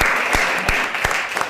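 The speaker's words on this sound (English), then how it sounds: "So she's not here, but a round of applause for her." Audience applause at a book launch celebrating a literary anthology about New Jersey, a steady wash of clapping with a few sharper individual claps standing out over the short burst.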